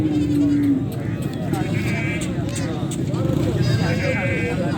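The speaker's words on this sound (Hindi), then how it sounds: "ये देखें सब की सब गब्बन बकरियाँ।" Goats bleating at the Faisalabad livestock market, a pen of pregnant does crying out repeatedly over a steady crowd murmur, with several overlapping calls near and farther off and people talking throughout.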